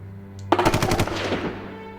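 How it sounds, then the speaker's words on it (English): Heavy machine gun fire as a sound effect during a tabletop wargame: a single loud, close burst of rapid shots that tails off into a fading echo, with no talk over it. "he'll fire the heavy machine gun at the autocannon team"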